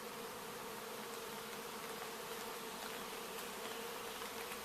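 Bees buzz around an unseen hive beside a hiking trail at Burkes Garden on the Appalachian Trail, a steady, even drone holding at moderate loudness throughout, with no talking.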